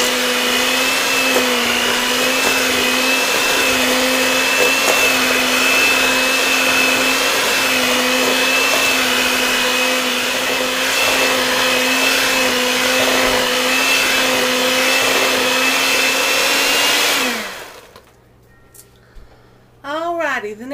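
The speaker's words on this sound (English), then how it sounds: "And I'm going to mix this up until it's well incorporated." An electric hand mixer whirs steadily at a constant pitch for about seventeen seconds, beating eggs into oatmeal scotchies cookie dough, then stops abruptly, leaving quiet room sound with a voice.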